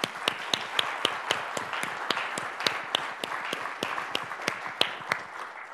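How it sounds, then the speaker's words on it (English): A round of applause from a conference keynote audience at DevConf.CZ 2020, a fairly soft wash of clapping with distinct sharp claps ringing out close by at a regular beat. "So could we please give them a round of applause?"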